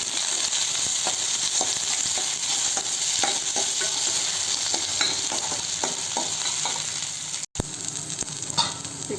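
Mustard seeds, chana dal and curry leaves sputter and sizzle in hot oil for a Telugu gongura dal tempering, with steady frying hiss, scattered crackling pops and a spoon stirring, close and loud with no voices.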